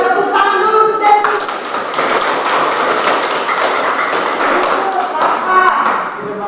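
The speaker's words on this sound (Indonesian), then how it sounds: "tepuk tangan dulu untuk Desi" Classroom of students applauding a classmate, a dense burst of close clapping that carries on for several seconds with voices mixed in.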